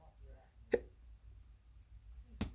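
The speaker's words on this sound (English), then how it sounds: "And I got some hiccups." Two short, sharp hiccups, one near the start and one near the end, in an otherwise quiet room during a stamping and watercolor craft session.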